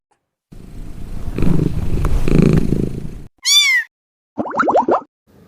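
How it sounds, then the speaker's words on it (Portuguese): A cat purrs in a steady low rumble for a few seconds, then gives one clear, close meow after a short pause. "Gato."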